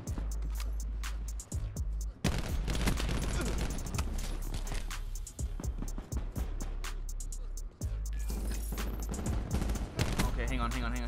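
Auger DMR gunfire in the video game Black Ops 4: rapid, dense volleys of shots crack almost nonstop over deep booms, with brief lulls between bursts.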